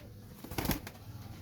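A pigeon at the Shahdara pigeon market in Lahore gives a single short coo or wing burst, close by, set against a low market hum.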